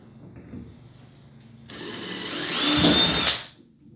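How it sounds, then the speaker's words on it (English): A power drill whirs up and bores a pilot hole into a plastic kayak hull, rising to a loud high-pitched grind for about two seconds, then cuts off. "you're going to go ahead and drill your pilot hole"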